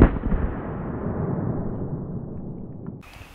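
A single gunshot fired at a stack of cushions cracks loud and close at the start, then a long rumbling decay trails off over a few seconds before a faint rustle near the end.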